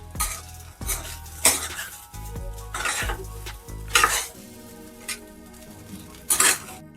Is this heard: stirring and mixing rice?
yes